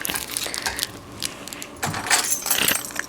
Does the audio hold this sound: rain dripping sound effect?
no